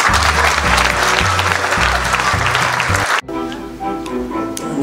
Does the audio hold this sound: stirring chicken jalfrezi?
no